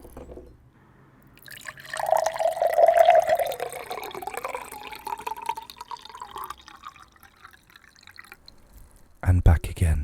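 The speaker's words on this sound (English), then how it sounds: "now we have the sound of water being transferred from glass to glass" Water poured from one glass into another on a noise table, a steady trickling, splashing stream lasting several seconds, fairly close and moderately loud, with a sharp clink at the end.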